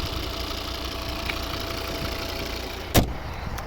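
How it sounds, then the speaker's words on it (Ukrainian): A 2011 Volvo V60 2.0 D3 diesel engine idles steadily with a low, even rumble throughout, broken once by a brief sharp knock near the end. "Ось звук, робота двигуна."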